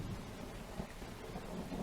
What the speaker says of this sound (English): rain hammering on its rusty tin roof